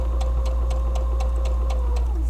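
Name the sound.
sewing machine stitching with edge stitch foot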